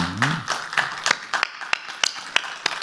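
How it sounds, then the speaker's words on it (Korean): Congregation at a Korean Sunday church service clapping in unison, about nine crisp, evenly spaced beats at a steady rhythm, fairly close and moderately loud, with a short vocal tone at the start. "은혜 주실 우리 하나님께 영광의 박수 올리겠습니다"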